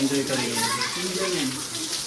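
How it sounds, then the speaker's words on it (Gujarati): A waterfall pours down from above into a cave-like shrine at Najar Mata, a steady rushing wash that fills the whole moment while someone talks over it. "અહીંયા ઉપરથી ધોધ પડી રહ્યો છે જોઈ શકો છો તમે લાઈવ"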